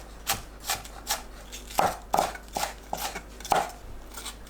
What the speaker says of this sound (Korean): 파를 5에서 7cm 길이로 채 썰어줍니다.